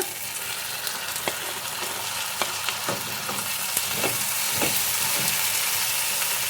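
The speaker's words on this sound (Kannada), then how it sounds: "ಟೊಮೊಟೊ ಫುಲ್ ಸಾಫ್ಟ್ ಆಗೋವರೆಗೂ ಸ್ವಲ್ಪ ಫ್ರೈ ಮಾಡ್ಕೊಳ್ಳಿ" Tomato frying with onions in a pan, cooked down for a palak paneer gravy, gives a steady close sizzle with scattered sharp ticks and scrapes from stirring.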